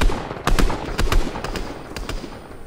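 Gunfire in the video game Fortnite crackles in a quick run of sharp shots, several bursts spaced irregularly over a couple of seconds, fairly loud against a steady game background.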